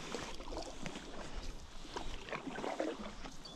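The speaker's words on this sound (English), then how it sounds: "Now, let's paddle downstream." Kayak or paddle board paddled downstream on a partly ice-free backyard river, with soft water splashing and dipping in steady strokes under constant wind and outdoor ambience, fairly close.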